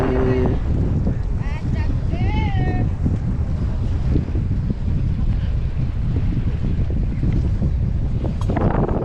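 Strong wind at a beach, a steady loud roar and buffeting against the microphone throughout, with surf underneath and a person speaking briefly in the middle.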